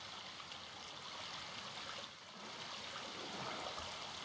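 Water from a stream runs steadily outdoors, a broad, continuous rushing and trickling wash that stays fairly even throughout, with no voices.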